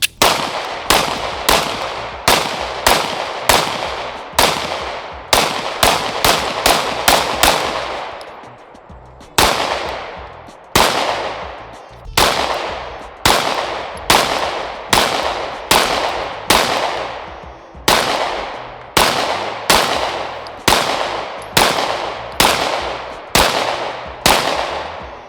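Sharp gunshots from a Shadow Systems CR920XP pistol firing Remington 115 grain ammunition at a range, loud close cracks in quick strings with brief pauses between magazines, each shot ringing out and decaying.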